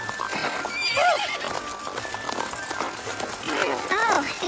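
Horse sounds during a ride: several whinnies stand out over a steady background, with people talking throughout and the hoof beats hard to pick out.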